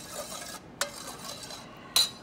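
Butterscotch pudding mixture with milk gets stirred by a spoon against a bowl, giving soft scraping swirls punctuated by two sharp clinks close by, with no voices.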